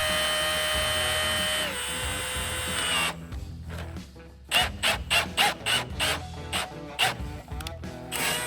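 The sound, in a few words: drill setting rivets on Jeep Wrangler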